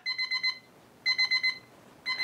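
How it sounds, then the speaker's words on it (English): A He-Man toy alarm clock rings in three bursts of rapid electronic beeps, each a quick run of four or five pulses separated by short pauses, loud and close with no talking. "So we have the alarm going off."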